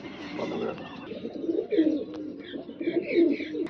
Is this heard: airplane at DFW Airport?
no